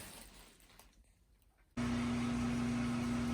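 A workshop heater kicks on partway through, its steady blower roar and low hum starting abruptly after a quiet stretch and continuing loud and constant to the end.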